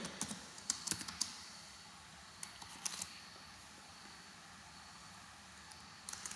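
Java code is typed on a computer keyboard in short bursts of crisp, close key clicks separated by quiet pauses, soft and alone with no voices.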